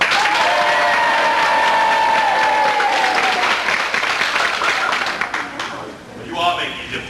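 An audience in a community theatre production of The Mystery of Edwin Drood claps for candidate Neville Landless, loud sustained applause with cheers that gradually fades, while someone talks over it.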